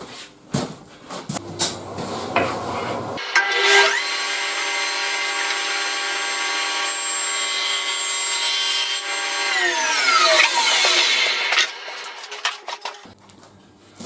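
A table saw cuts through a pine board: a loud, high, steady blade whine that drops in pitch under load for about eight seconds, framed by shuffling and handling noises before and after.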